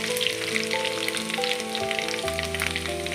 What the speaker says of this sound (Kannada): ಎಣ್ಣೆ ಬಿಸಿ ಆದ ಕೂಡಲೇ ಅದಕ್ಕೊಂದು ಎರಡು ಚಮಚದಷ್ಟು ಸಾಸಿವೆಯನ್ನು ಹಾಕ್ತಾಯಿದ್ದೀನಿ